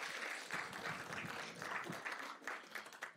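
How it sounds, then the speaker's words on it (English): Audience applause for the Lancers' performance at a Black History Month celebration, a steady wash of many hands clapping at moderate distance, fairly soft and continuous throughout. "Give them another round of applause, please"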